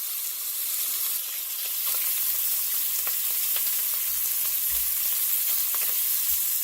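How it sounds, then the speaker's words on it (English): Sausage for a shrimp and sausage jambalaya sears in a pan with a steady, close, loud hiss of sizzling fat, with a few soft pops and faint stirring scrapes throughout and no talking. "you want to sear the sausage until it is a little brown on one side"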